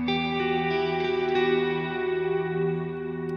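Electric guitar run through a Neunaber Wet Reverberator plugin at its default setting, sustained chords ringing steadily with a smooth reverb wash, played alone and fairly loud.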